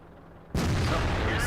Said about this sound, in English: when this gun hits, it hits hard.